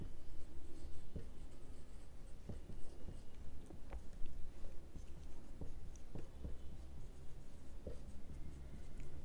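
Pen writing by hand on paper, a soft close scratching with irregular small taps and strokes, faint and continuous under quiet room tone.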